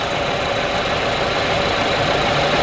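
A car engine idles with its AC compressor clutch engaged, giving a continuous, loud mechanical drone with a faint knocking texture and no speech.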